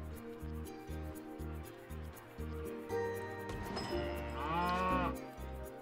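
A cow moos in the park-building video game Planet Coaster, a drawn-out bellow rising over steady rhythmic background music with its repeating low beat.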